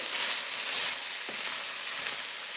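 Spiced potatoes fry in a pan with a steady, bright sizzle throughout, broken by a couple of short stirring scrapes, heard close with no voices.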